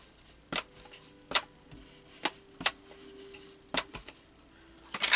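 Scissors snip paper for a collage in sharp, separate cuts spaced about a second apart, close and crisp against a quiet room.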